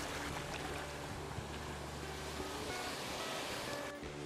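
Ocean waves rush continuously at a winter beach, a broad, steady roar of surf with wind noise across the microphone and no voices.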